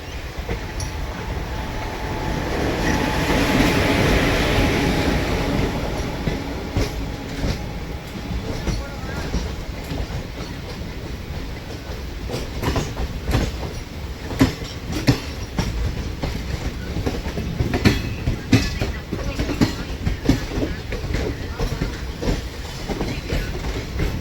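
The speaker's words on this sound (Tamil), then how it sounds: "பேசஞ்சர் ட்ரெயின் நம்மளை கிராஸ் பண்ணி போச்சுது." Heard from aboard the Guruvayur Express near Tiruchirappalli Junction, India, a passenger train rolls past nearby with a loud steady rumble and rhythmic clickety-clack of wheels on rail joints, continuing throughout.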